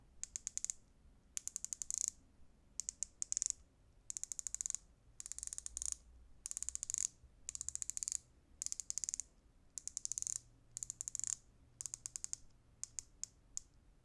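The unidirectional 120-click bezel of a Nodus Retrospect dive watch turns in short bursts of rapid, crisp ratcheting clicks separated by brief pauses, close-up and quiet, with no voices.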